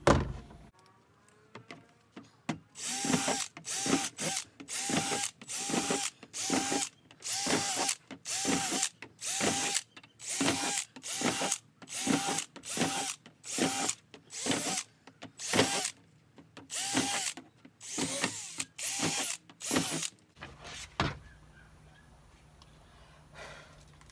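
A power drill bores a series of holes in an upturned compost bin, roughly twenty short, loud whirring bursts in an uneven rhythm separated by brief pauses, then quiet; no speech.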